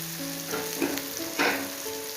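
Spice paste fries in oil in a covered pan for a spicy pointed gourd dish, a soft steady sizzle with a few brief louder bursts, close and alone, with faint tonal hum lines underneath.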